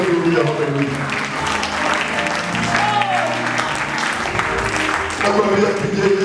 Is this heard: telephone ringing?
no